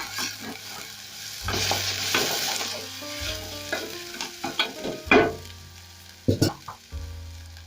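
Onions fry in a pan with a steady sizzle while a utensil stirs and scrapes against the pan in a series of clattering knocks.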